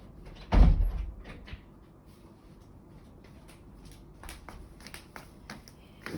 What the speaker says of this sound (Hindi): दरवाज़ा बंद कर दो, आवाज़ आ रही है